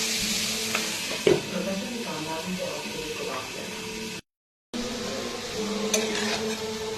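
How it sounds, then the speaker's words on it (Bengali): Onions and tomatoes bubble and sizzle in a pan, a continuous frying hiss with occasional clinks of a utensil and a brief cut to silence midway, while a person talks over it. "পেঁয়াজগুলো, টমেটোগুলো বয়েল হয়ে গেছে।"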